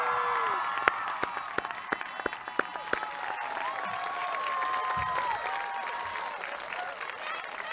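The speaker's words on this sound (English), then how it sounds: "she certainly deserves a big round of applause" Graduation audience applauding a teacher at a technical high school ceremony, steady clapping with a few sharp individual claps and some cheering and whoops mixed in, with whistle-like tones rising over the crowd.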